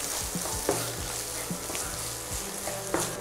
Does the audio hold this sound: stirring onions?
yes